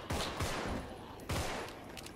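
Gunfire in the video game 1984 Contagion, dense rapid bursts of loud shots rattling continuously with a couple of heavier blasts, close and harsh.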